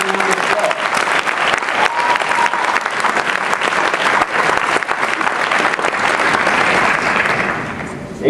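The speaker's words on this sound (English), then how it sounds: "Give your parents a round of applause." Loud, sustained applause from a large crowd, steady clapping filling the whole stretch before tapering slightly at the end.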